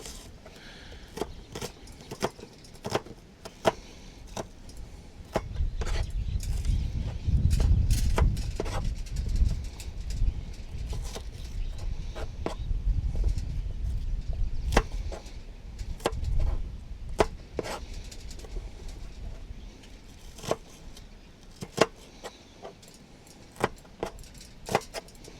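A knife chops onions on a cutting board in a home kitchen, giving sharp, irregular knocks that repeat through the clip, with a low rumble swelling in the middle.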